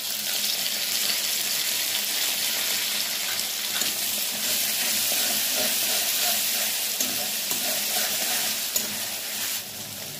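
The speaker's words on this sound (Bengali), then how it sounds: "দিয়ে দেবো এখন পেস্ট করা পেঁয়াজটা" Onion paste frying in a hot pan for a vegetable curry of peas and potatoes, giving a loud, steady, dense sizzle that runs unbroken throughout.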